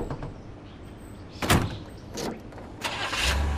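In the video game Made Man, a car door thuds shut a few times before the engine turns over and settles into a low running rumble near the end.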